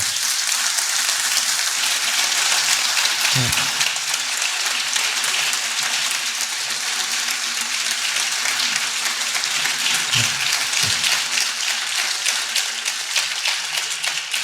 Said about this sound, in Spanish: Fuerte aplauso para Pedro, por favor.